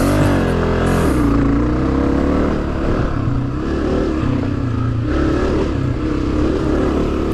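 A Honda CRF250F dirt bike races in a hare scramble, its engine revving hard and shifting pitch as it climbs and backs off, loud and close throughout.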